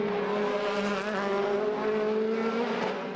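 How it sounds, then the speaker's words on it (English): DTM race cars power through a corner at the Norisring street circuit, a loud, continuous high-revving engine whine with steady harmonic pitch, close and unbroken. "And when the DTM cars start practicing"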